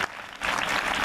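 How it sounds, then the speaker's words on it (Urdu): Loud clapping from a church congregation at a Sunday evangelical service, a dense, sustained burst of applause that swells after a brief dip and fills the room. "زوردار تالیاں بجائیں"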